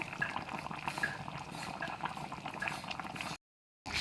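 Fish curry simmering on the heat: a close, steady bubbling and gentle popping of boiling liquid, fairly quiet, cut by a brief silence near the end.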